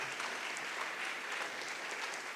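A church congregation applauds during a sermon, a steady, even wash of clapping at moderate distance, with no voices above it.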